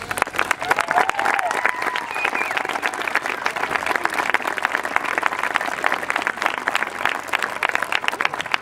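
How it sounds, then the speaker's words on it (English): A large crowd at a Freedom Fest event applauds veterans and active service members, with dense sustained clapping and scattered cheers and voices filling the hall without a break. "let's give them a round of applause."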